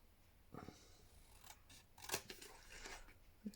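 Scissors snip paper for a junk journal cover in several soft, close cuts, heard alone in a quiet room.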